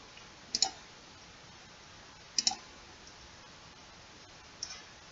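Mouse clicks on a computer, three quiet, crisp clicks spaced a couple of seconds apart over a faint background hiss, the first two in quick double-click pairs.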